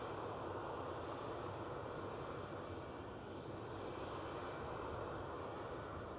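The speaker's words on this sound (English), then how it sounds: "So Aer Lingus will be the next aircraft to depart." Aer Lingus airliner engines at Edinburgh airport, a steady, broad, distant roar that holds at an even level with no other sounds over it.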